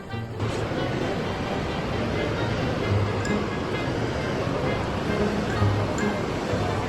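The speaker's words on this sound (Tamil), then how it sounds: "கடல் அலை வருது, இங்கே வரைக்கும் வருது" Sea waves wash onto a beach in Goa as a steady, loud broadband roar of surf with little variation, heard without talking.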